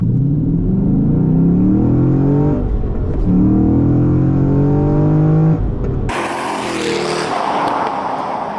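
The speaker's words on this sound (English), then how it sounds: "we dial up between 16 and 1700 revs and jump off the clutch and then change cogs as fast as we can" A car launched at around 1600 to 1700 rpm during acceleration testing, its engine roaring and climbing through the revs with quick gear changes between rising pulls, loud and close before cutting to wind and road noise.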